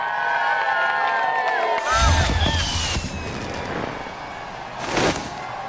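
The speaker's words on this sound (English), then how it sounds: "those children down there will certainly be cheering you on" A crowd of children cheering and whooping as the Olympic torch is carried past, with the sound moderately distant and in rising bursts over a steady background hum.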